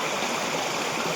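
Dengula hidden waterfall in the rainy season roars with a steady, dense rush of falling water, unbroken and close throughout.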